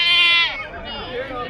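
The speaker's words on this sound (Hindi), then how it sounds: "बेहतरीन बकरी खड़ी हुई है माशाल्लाह भाई, बड़ी बकरी खड़ी है।" A goat at a busy livestock market in Tando Adam lets out one loud, drawn-out bleat nearby, followed by the murmur of crowd chatter and voices.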